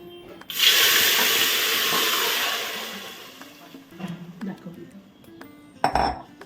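Grated cucumber tipped into a cooking pot for a Marathi cucumber dhondas batter, heard as a loud wet clatter and slosh that swells up quickly, tails off over several seconds, then gives way to a few lighter knocks and clinks.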